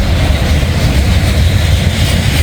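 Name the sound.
freight train passing on a grade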